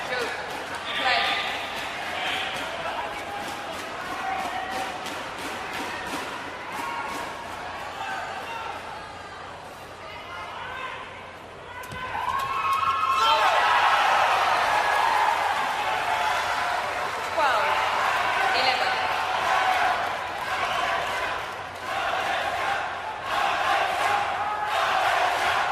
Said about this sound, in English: Crowd starting to get involved in this one.